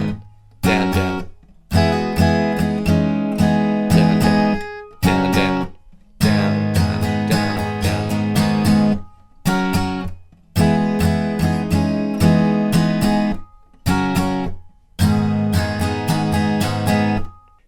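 Acoustic guitar strumming the chords of a song, played in repeated loud rhythmic bursts of down-strums separated by short pauses, close and alone.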